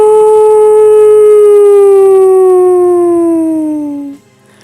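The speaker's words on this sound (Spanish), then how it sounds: "cuando el gran Jon hizo sonar también su cuerno" A single long, loud war horn blast holds a steady, bright tone for about four seconds, then sags in pitch and cuts off, with nothing else heard around it.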